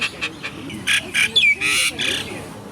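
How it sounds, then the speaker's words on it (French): A common myna on Ko Phi Phi island in Thailand calls close by in a series of harsh, raspy squawks and chattering bursts, with one sliding whistled note in the middle, gaining loudness toward the end. "nous faisons la rencontre d'un martin triste, ce drôle d'oiseau"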